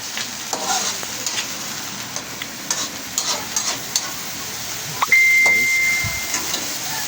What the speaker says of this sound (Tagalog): So halo-haloy muna natin ng konti yan.